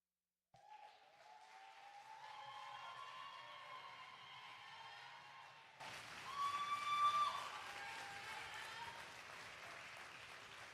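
Applause from the crowd at a women's poetry slam following a poem, quiet at first, then swelling into louder clapping with scattered cheers partway through and continuing to the end.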